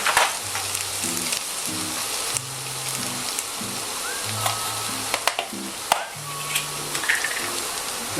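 Fennel with coarse salt cooks in a pan, giving a continuous close sizzle with occasional clicks and taps, while a low tonal melody plays underneath.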